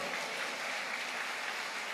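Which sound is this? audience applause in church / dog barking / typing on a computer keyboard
audience applause in church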